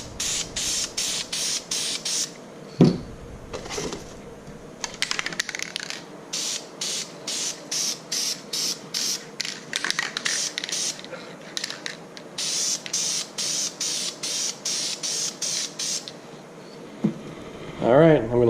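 A can of matte clear coat sprays in a regular series of short hissing bursts with brief gaps between, close by, with light handling noises in the pauses.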